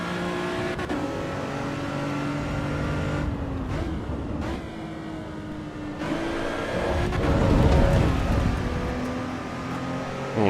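A race car engine in the racing game Assetto Corsa EVO drones and revs continuously, pitch rising and dropping with sequential gear shifts, loud and close, with a faint tire squeal.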